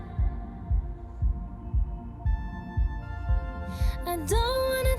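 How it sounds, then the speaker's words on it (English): Deep thumping heartbeat effect within a song's production, soft double beats repeating steadily under a humming synth pad, with a bright swooping tone rising near the end. "Heartbeat."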